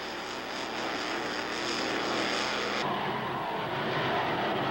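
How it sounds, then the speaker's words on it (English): Blown high-performance engines, Ford, Plymouth and Chevrolet, power racing hydroplanes with a loud, sustained, droning roar that swells slightly and shifts tone partway through, steady and without talking. "These are blown engines, be it Fords, Plymouth, Chevrolet, raw horsepower."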